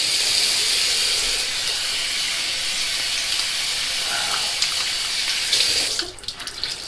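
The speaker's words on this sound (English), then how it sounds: "Let's get some nice cold Lake Michigan water here." Cold Lake Michigan water runs from a tap in a steady, close hissing stream that stops abruptly near the end, leaving a few drips and small knocks.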